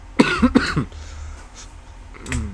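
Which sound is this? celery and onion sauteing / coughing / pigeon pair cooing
coughing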